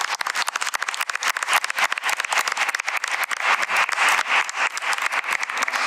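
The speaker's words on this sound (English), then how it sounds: "let's have one more round of applause for our high five winners" Sustained applause from an audience at a school board meeting honouring award winners, dense clapping filling the whole stretch at steady loudness with no talk.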